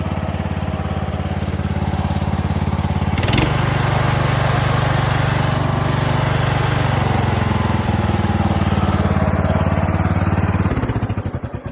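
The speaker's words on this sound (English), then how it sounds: "After a carburetor adjustment, this thing sounds pretty good now." Cub Cadet zero-turn mower engine running steadily after a carburetor adjustment, a loud close continuous drone with a brief sharp transient early on, then an even tone that tapers at the end.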